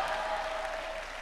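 A church congregation claps loudly at a worship service, a steady, dense burst of many hands lasting just over a second with no speech over it.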